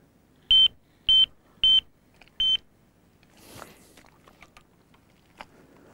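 Four loud, evenly spaced electronic beeps from a carp fishing bite alarm buzzer as the rod is set in its clamp, followed by faint handling clicks and rustles.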